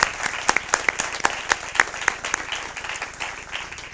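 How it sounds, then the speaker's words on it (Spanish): Applause for a panel at a report presentation, a small audience clapping in quick, fairly distinct claps, close and steady, fading slightly toward the end. "un aplauso creo que para esta mesa"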